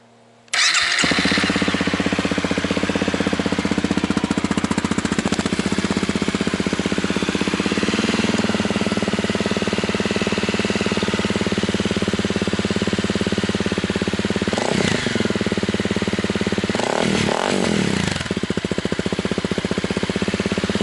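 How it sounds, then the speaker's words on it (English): A Honda CRF250L motorcycle with an aftermarket muffler fires up, then settles into a steady, raspy idle that runs close and loud, with a couple of brief blips in engine note late on and no talking. "Let's start her up so you can hear the muffler."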